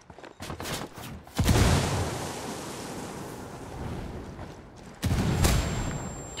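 Grenade blast and rumbling gunfire in Tom Clancy's Ghost Recon Wildlands, two heavy booming bursts with a long roaring wash between them, loud and close, no talk.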